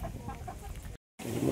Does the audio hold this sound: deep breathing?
no